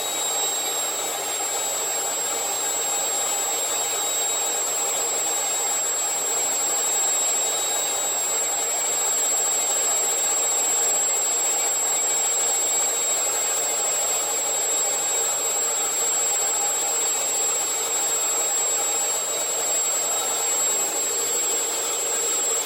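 Homemade twin-cyclone dust collector built from pail cans with two cyclone units, running as a constant loud vacuum-motor whine and airflow hiss with a faint high tone, unchanging and alone for over twenty seconds.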